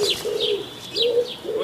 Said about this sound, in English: cue recording from BBC Archives of wood pigeon's mating call